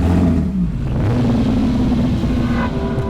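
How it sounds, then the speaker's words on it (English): Nissan racing car engine working hard during a wet, sliding race, a loud, gruff mid-range drone that rises and falls in pitch as the throttle is held and eased, close and continuous throughout. "Very grunty Nissan engine in the back"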